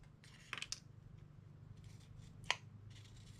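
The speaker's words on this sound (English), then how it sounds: "So I'm just going to cut that off." Scissors snip through craft material while making a budget DIY Christmas gift, a quick pair of close, crisp cuts near the start and one sharper snip a couple of seconds later, all fairly quiet with no talking.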